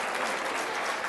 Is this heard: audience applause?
yes